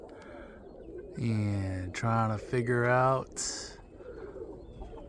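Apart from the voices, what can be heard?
roller pigeons cooing in loft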